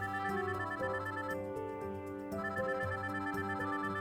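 A public phone booth rings in the Eternum visual novel game, a continuous electronic tone pattern repeating steadily with a brief dip midway, heard alone without talk.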